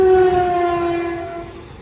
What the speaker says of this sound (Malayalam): പ്ലാറ്റ്ഫോം നമ്പർ 2 ഏതോ ഒരു ട്രെയിൻ നിർത്താതെ പോകുന്നുണ്ടല്ലോ